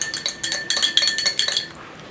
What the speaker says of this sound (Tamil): தேனும் இந்த அஸ்வகாந்தா பவுடரும் ப்ளஸ் பாலும் நல்லா மிக்ஸ் ஆகும்